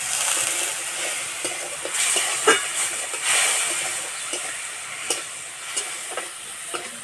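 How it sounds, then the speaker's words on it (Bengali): Ground spices with cumin, turmeric, a little sugar and a splash of water sizzling in a pan for a cabbage dish, a steady close hiss broken by scattered scraping stirs of a spoon, no talk. "মশলা কষানো হয়ে গেছে"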